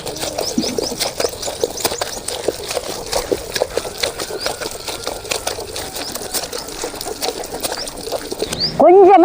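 A mixer grinder churns appakovai greens with a little sprinkled water into chutney: a steady, close mechanical drone with busy rattling clicks for about nine seconds, then a brief wavering tonal call at the very end.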